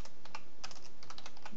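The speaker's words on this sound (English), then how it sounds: "I cannot type. Man, this keyboard's possessed." Someone types on a computer keyboard: a quick, irregular run of light clicking keystrokes with no voices, close by and fairly soft.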